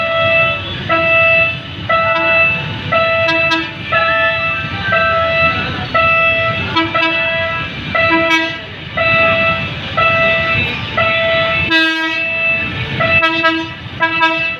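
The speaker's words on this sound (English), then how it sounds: "Malabon Shuttle DMU." A PNR Hyundai Rotem diesel multiple unit on the Malabon Shuttle passes at Tayuman Street, sounding loud repeated horn toots over a rumbling engine and rolling wheels.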